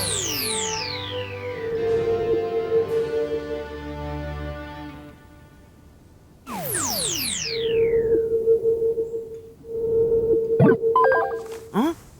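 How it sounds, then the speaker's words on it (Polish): A cartoon space-relay signal comes as electronic sweeping chirps and a sustained pulsing beep tone, with a pause in the middle and then a second burst of descending swoops followed by steady beeping. "to sygnał z kosmicznego przekaźnika"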